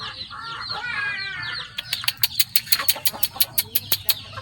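Chickens and ducks on a rural farm cluck and chatter nearby, first a dense overlapping babble of fowl calls, then a run of sharp, evenly spaced clucks, with no talking.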